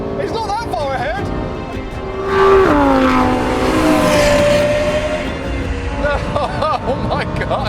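A Lexus LFA and a Lamborghini Huracan STO race side by side, engines screaming through rising revs and gear changes, tires squealing faintly. Excited talk runs over the loud engine noise throughout.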